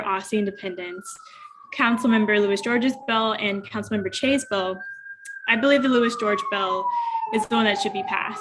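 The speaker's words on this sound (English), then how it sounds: "I apologize for the sirens in the background." A siren wails faintly in the background as a steady rising-and-falling tone, running under continuous close speech by a witness testifying at a council hearing.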